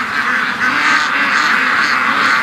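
Ducks and geese calling together in a backyard flock, a dense, continuous chorus of nasal quacks and honks close by, with no clear speech.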